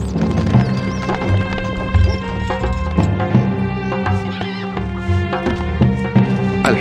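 A horse gallops in Stronghold Crusader amid a dense game mix of music and battle noise, its rhythmic hoofbeats buried under crashes and other effects, with no clear talk.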